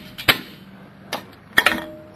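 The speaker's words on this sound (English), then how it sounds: "Now we got to hammer the rotor" Hammer blows on a rusted car brake rotor seized onto the hub: three sharp metallic strikes with clinking ring, spaced unevenly, close and fairly loud against a quiet garage background.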